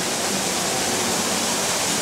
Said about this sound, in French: Vous entendez que l'eau est vraiment juste derrière